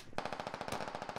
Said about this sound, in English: And now they are receiving fire from that three story.